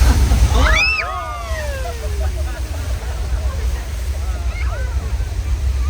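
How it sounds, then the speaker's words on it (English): Thousands of gallons of recycled water pour from hilltop tanks onto a theme park ride at Universal Studios Hollywood, a loud rushing surge that then settles into steady sloshing, with people shouting and talking over it. "We dumped thousands of gallons of recycled water from tanks at the top of the hill."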